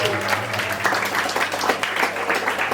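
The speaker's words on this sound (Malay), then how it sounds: "Okey, tepuk tangan untuk dia semua." Applause from a school audience at a STEM session, many hands clapping continuously and fairly loud, with a constant low hum underneath.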